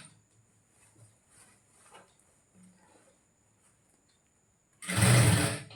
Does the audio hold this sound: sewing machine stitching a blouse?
yes